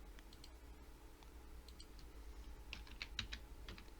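Keys click quietly on a computer keyboard in irregular bursts of typing, with a denser flurry toward the end over a faint steady room hum.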